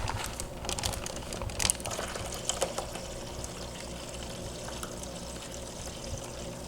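Tank water being poured into a fish tank, a soft continuous trickle and splash with scattered crinkling and handling clicks, fairly quiet and steady throughout.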